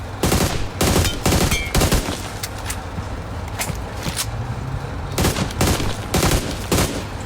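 Automatic gunfire from a gun in the mobile game PUBG Mobile rattles in loud bursts of rapid shots, with short pauses between volleys and a steady background hum underneath.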